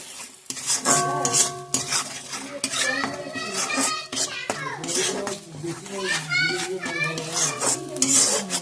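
Ginger, garlic and onion paste frying in a pan while being stirred, with utensil scrapes and clinks over a low sizzle, under near-continuous children's chatter and voices.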